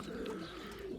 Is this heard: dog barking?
no